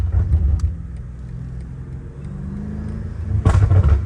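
A BMW M5 Competition fitted with new downpipes rumbles deep and loud up close, holding a steady growl before a sharp, aggressive rev surge near the end.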